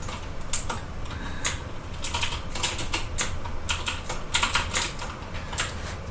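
Keyboard typing on a computer, irregular bursts of keystrokes clacking at moderate loudness over a quiet room hum, with no speech.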